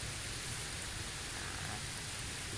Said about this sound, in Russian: Да дождь сейчас пройдет.